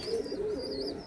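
A full-colour pigeon in a Howrah Mourigram loft gives a soft, low coo that rises and falls over about a second, close by and fairly quiet, with no one talking.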